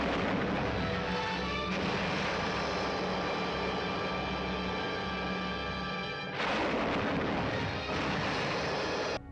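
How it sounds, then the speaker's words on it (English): Bazooka fire from the 1954 film Them!, a dense, loud roaring barrage that runs continuously, breaks briefly, then starts again. "Bazookas."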